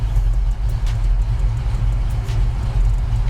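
Deep, steady rumble of a built 302 V8 with a four-barrel carburetor in a 1966 Ford Mustang, a loud close idle-to-cruise drone with no talk over it.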